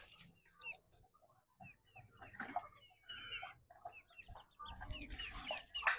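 Several chickens cluck and squawk in scattered, overlapping calls, fairly quiet and close, with some rustling.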